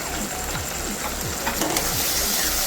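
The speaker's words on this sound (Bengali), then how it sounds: "মশলাটা খুব ভালো মতো কষিয়ে নিচ্ছি" Masala spice paste of ground chilli, turmeric and salt fries in oil for dal tadka, a steady close sizzle broken by repeated scraping strokes of a spoon stirring in the pan.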